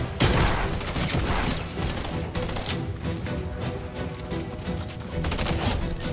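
New weapon firing in Fortnite Season 9, a dense rapid burst of shots with sharp cracks in quick succession, loud and close, lasting several seconds.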